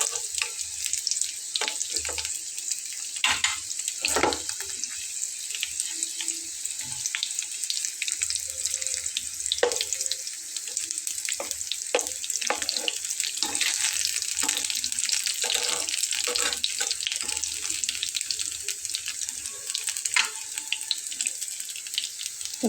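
Stuffed pointed gourds, puffed up from a cornflour coating, fry in oil in a pan, giving a steady, bright sizzle with scattered pops and crackles that runs unbroken and close throughout.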